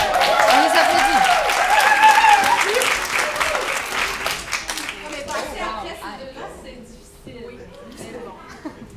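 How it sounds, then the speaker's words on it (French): Loud applause from a crowd fills the first half, then fades into scattered claps and murmuring voices. "Quand vous êtes prêts, on les applaudit."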